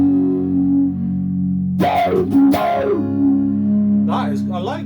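Electro-Harmonix Micro Q-Tron auto-wah pedal with the Q turned up, giving a few plucked notes with pronounced vocal-like wah sweeps over a held tone, loud and close.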